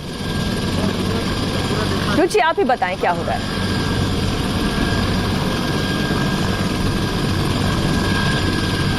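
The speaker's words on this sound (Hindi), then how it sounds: "और ये हेलीकॉप्टर अब लैंड कर चुका है।" A landed helicopter at a Ram Katha Park celebration in Ayodhya keeps up a loud, steady rotor and engine roar throughout, while a voice speaks briefly over it near the middle.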